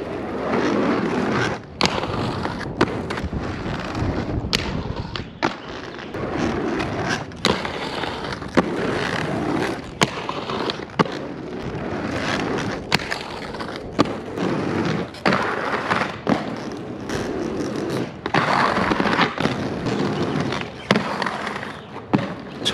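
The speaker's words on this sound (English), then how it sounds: "Hitting the crack right away, remembering that the Royale groove is much lower." Skates grinding across a crack and the Royale groove in a steady, textured scrape, broken at intervals by sharp clacks and thuds of impact, all close and loud.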